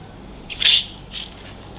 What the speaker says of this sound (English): So let's pop this bottle and see.